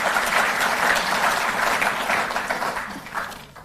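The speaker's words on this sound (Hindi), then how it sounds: "जोरदार तालियां बजती रहें।" Sustained, loud audience applause at an official Delhi government sports policy event, dense clapping throughout before thinning slightly near the end.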